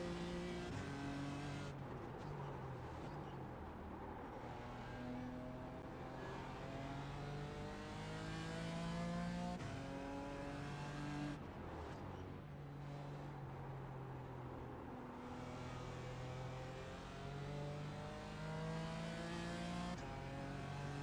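A BMW GT4 race car engine in the iRacing sim drones steadily through the gears on a road course, rising and falling in pitch with a few shift dips, loud and continuous with no talk.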